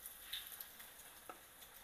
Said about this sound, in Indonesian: Kita goreng satu persatu. Kita goreng pakai api kecil ya.